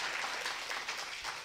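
An audience at a DXN health-products ladies' training event in the Dubai Chamber applauds steadily, a dense even wash of clapping close by that fills the whole moment without any talk.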